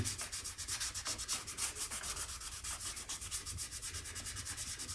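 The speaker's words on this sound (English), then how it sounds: "sanding pad" Steady, rhythmic sanding of an acoustic guitar's finish with a soft pad, a continuous raspy scrubbing with regular strokes, close and fairly loud, no voices.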